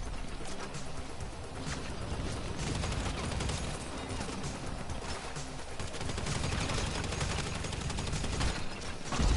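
Video game gunfire in a 5150 deathmatch, a dense continuous fusillade of rapid shots and bursts layered over each other, loud and close throughout with no pauses.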